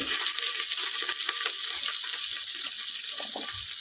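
Raw chili and thick chunks of raw onion frying in a pan for a ghugni curry, a steady close sizzle with faint stirring scrapes and no talk.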